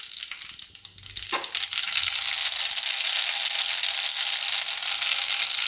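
Mustard seeds drop into hot oil for Rajasthani mirchi kuta, and the oil jumps into a loud, sustained sizzle that keeps going with no voices over it.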